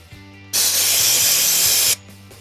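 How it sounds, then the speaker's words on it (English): UPVC cleaner sprays from a hand spray bottle in one loud, continuous hiss lasting more than a second, close up, with quieter background sound before and after. "just give it another spray"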